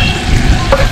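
Sichuan hotpot seasoning stir-fried in a pot, a steady close sizzle and frying hiss with light scraping of the stirring utensil through the whole short moment.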